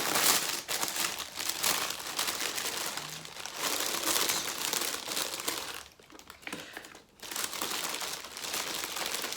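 A crinkly plastic package from a surprise yarn club is opened by hand, giving continuous close, loud crinkling and crumpling with a couple of brief pauses.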